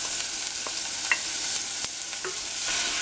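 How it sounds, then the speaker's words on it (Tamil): Mustard seeds and urad dal spluttering in hot oil in a pan while cooking capsicum poriyal: a steady close crackle with scattered sharp pops across a few seconds, no talking. "கடுகு உளுந்து பொரிய ஆரம்பிச்சிருச்சு"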